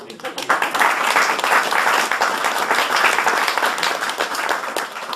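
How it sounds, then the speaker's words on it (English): Audience applause at a jazz quartet gig in a music store fills the room, dense sustained clapping that begins abruptly and continues steadily with a voice speaking faintly beneath it. "So give yourselves a big round of applause also, because you deserve it"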